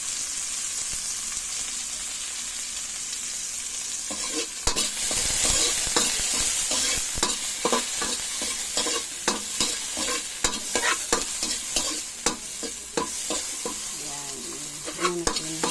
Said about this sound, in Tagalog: para na mix na natin guys yung ating tahong.